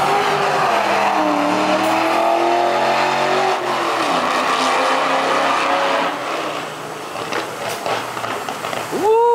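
A catless V6 Mustang with a 3-valve engine does a pull past the listener, its loud exhaust rising in pitch as it accelerates, then dropping and fading as it moves away.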